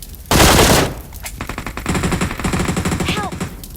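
Gunfire in a first-person shooter game: a loud blast, then a sustained automatic burst of rapid, evenly spaced shots, close and dominant, with brief game effect chirps near the end.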